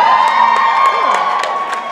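Convention panel audience cheering and applauding, with steady clapping, whoops and shouts filling the room, loud and close throughout.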